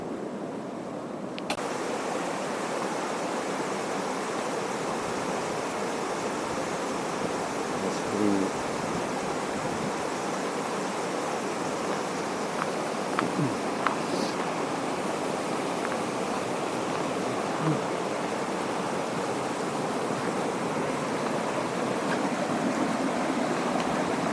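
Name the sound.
mountain stream flowing in the Great Smoky Mountains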